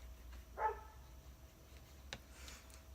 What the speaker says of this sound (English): you guys can hear my neighbor's dog barking